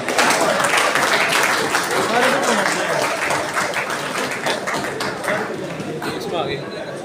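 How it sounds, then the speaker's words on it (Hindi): Children in a school gathering applaud loudly and steadily, a dense wash of clapping that fills the whole stretch and fades slightly toward the end, with an adult voice speaking over it. "बच्चों जोरदार तालियां रुकनी चाहिए भाई"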